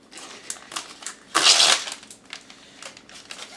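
Package of precooked bacon being opened, with crinkly plastic rustles and one louder tearing crackle in the middle, close and fairly quiet.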